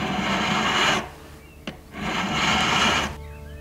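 Metal file rasping across a workpiece: two long, steady scraping strokes, each about a second or more, separated by a short pause with a small tap, close and fairly loud.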